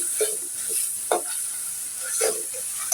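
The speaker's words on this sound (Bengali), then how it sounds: "বন্ধুরা, পেঁয়াজটা আমি ভালো করে ভেজে নিব।" Onions frying in a pan: a soft, steady sizzle and hiss with a few scattered stirring scrapes, close and alone, with no voices.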